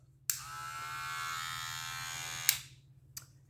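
A black Stylecraft Protégé cordless hair clipper switches on with a click and runs as a steady high buzz for about two seconds. It clicks off, and one more faint click follows in quiet surroundings.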